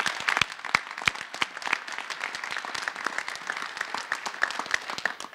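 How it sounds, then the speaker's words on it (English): A modest crowd applauds at a high school after a student a cappella performance, with individual claps sharp and distinct, close and fairly loud, the rhythm loose and uneven and no voices over it. "let's give a round of applause for her and the students"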